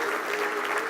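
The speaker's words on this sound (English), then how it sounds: "Come on, big round of applause." Dense, sustained applause from an audience at an awards ceremony, a loud even wash of many hands clapping at once in a short burst.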